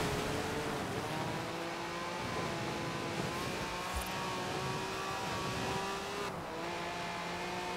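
Car engine in Forza Horizon 4 drifting across a frozen lake in winter, a loud steady roar with shifting revs and brief dips, running continuously without talk.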